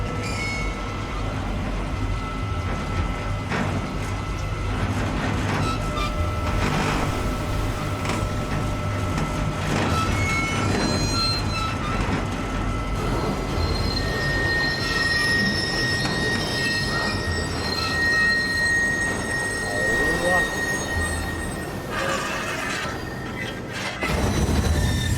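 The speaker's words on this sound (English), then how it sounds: "elevator's rickety and loud." Rickety, loud elevator rising through a sci-fi facility, a steady rumbling clatter with metallic creaks and whining tones that runs continuously and close for the full length, with no talk over it.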